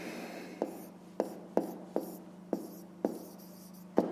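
Pen writing out a math inequality on paper, a soft scratching broken by about seven distinct taps or strokes at roughly half-second intervals, close and quiet.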